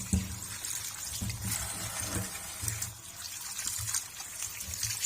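Peeled carrots being rinsed in water, with a steady wet trickle and light splashing as they are handled, close and fairly quiet throughout, with no talking.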